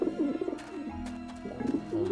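Pigeons coo in Grim Fandango, with repeated low, throaty warbling calls close by, broken by a brief pause before the cooing resumes.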